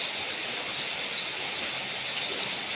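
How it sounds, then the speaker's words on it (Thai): Steady rain falls continuously as a dense, even hiss with no voices, heard during home cooking of stir-fried mushrooms with bamboo shoots, tofu and egg. "ฝนตก"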